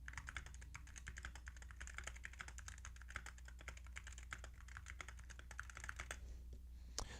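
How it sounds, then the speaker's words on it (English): Steady, fast typing on a computer keyboard, the rapid key clicks running continuously and fairly quiet at close range, with a faint low hum beneath and no talking. "I'm going to start typing the same sentence basically on my keyboard"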